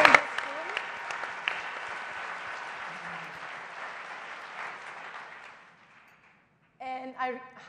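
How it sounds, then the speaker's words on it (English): A room full of people applauds for about six seconds, a dense, steady clatter of clapping that gradually thins and fades before a brief tonal sound follows. "I really want to give another round of applause"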